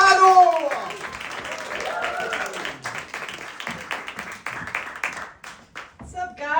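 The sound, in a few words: audience applause for a comedian at an open mic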